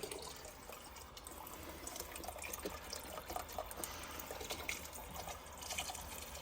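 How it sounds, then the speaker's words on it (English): A steady, quiet stream of liquid pours and splashes into a pot of chicken noodle soup, continuous and gurgly with small drips, heard close up. "we can see how much more liquid we want to pour in here"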